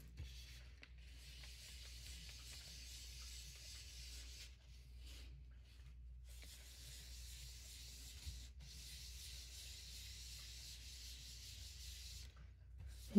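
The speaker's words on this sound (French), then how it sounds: "simplement faire ressortir mes motifs avec ma brosse estompe" Blending brush rubbing ink onto scrapbook paper, a faint, soft, continuous scrubbing hiss with a couple of brief pauses, close but very quiet, with no voices.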